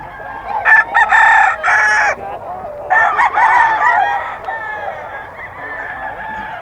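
A bull stag rooster crows loudly at close range at a fowl market in Bocaue, two long strident calls followed by softer clucking, with faint background chatter.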